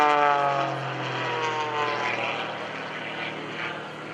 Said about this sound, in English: just like Gary Ward out there in his JCP&L sponsored airplane.